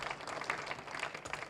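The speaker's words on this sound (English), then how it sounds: "give you a very big round of applause" An audience at a Britam insurance company anniversary event in Tanzania gives a round of applause, a fairly faint, dense clapping that continues steadily through the short moment.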